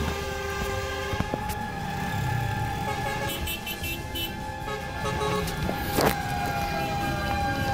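A fire engine siren wails as firefighters arrive at a large fire at the D'Fashion building. The steady tones sound fairly distant under a dense crowd and street roar, with a sharp burst near the end.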